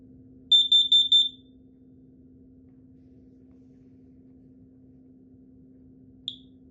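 A collectible smoke alarm gives a short burst of four rapid, shrill high-pitched beeps, then falls silent apart from a low steady hum, with one brief faint chirp near the end.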